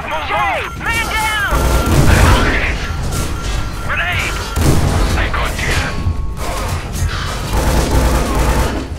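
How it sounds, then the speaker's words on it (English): Loud grenade explosion in the video game Scourge Outbreak, heavy booms and crashes amid ongoing gunfire and chaotic combat effects, with voices talking over the action. "Oh god, grenade!"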